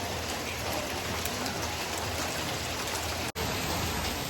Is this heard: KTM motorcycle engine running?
no